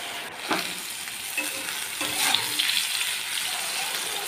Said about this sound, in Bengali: এবারে একটু ভালো করে সুন্দর করে ভেজে নেব